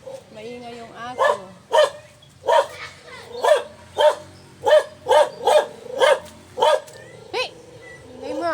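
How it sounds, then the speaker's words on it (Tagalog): A nearby dog keeps up a run of loud, evenly spaced barks, roughly a dozen in a row with a short yip at the end, close to the listener. "Diyan na po at yung aso ay maingay."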